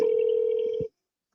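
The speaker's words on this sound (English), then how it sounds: "Why does it take so long for his voicemail to pick up?" A telephone ringback tone on a call waiting to reach voicemail, one steady electronic tone held for almost a second before cutting off into silence.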